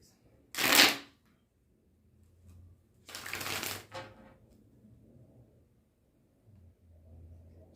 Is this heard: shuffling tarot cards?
yes